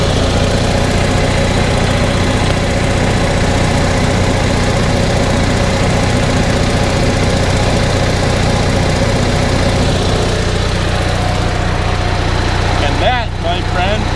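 A generator engine, just started after a bolt repair, runs steadily and loudly at a fast idle with a constant vibrating drone that stays near and unbroken until a brief clunk near the end.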